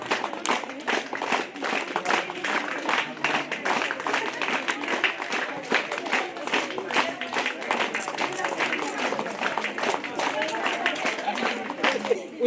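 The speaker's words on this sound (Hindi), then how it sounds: "ताली बजा दो, ताली बजा दो," Audience applause at a government town upper primary school event, dense steady clapping from a crowd lasting throughout, with some talk mixed in.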